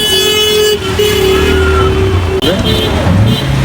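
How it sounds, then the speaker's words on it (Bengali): Busy road traffic on a rain-flooded city street, with motor engines droning loudly and close and a horn sounding, while a person talks over the noise. "গাড়ির শব্দ অনেক"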